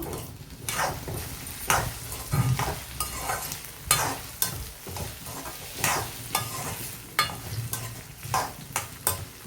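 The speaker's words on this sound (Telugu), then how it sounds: "దొండకాయలు ఎలా వేగుతున్నాయో చూద్దాము." Ivy gourd (dondakaya) pieces fry in a pan over medium heat as a vegan stir-fry, with a steady sizzle broken by repeated scraping stir strokes at an uneven rhythm, close and moderately loud with no talking.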